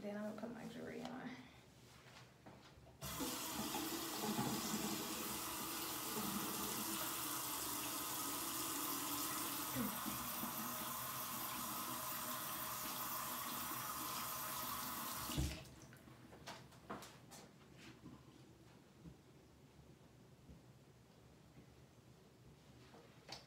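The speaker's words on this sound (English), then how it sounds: "I gotta wash my hands" A bathroom tap runs steadily for about twelve seconds while hands are washed under it, with a close, hissing water stream that then cuts off, leaving quieter handling noises.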